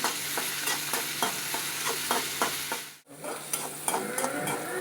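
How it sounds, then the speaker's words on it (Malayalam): Onion, two green chillies, ginger and garlic sauté in a pan with a steady sizzle under rhythmic spatula strokes, breaking off briefly for an instant partway through before the stirring and frying resume. "2 പച്ചമുളക് ഇട്ടു, ഇഞ്ചിയും വെളുത്തുള്ളി ഇട്ടു. എന്നിട്ട് വാട്ടണം."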